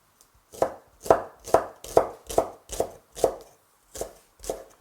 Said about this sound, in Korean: 파는 머리 부분이 좀 굵어졌어요. 이렇게. 그럴 때는 송송 썰어 주세요.